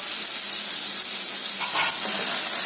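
Okra and green chillies sauté in a clay pot, giving a steady close sizzle that runs throughout, with a few stirring scrapes near the end and no voices.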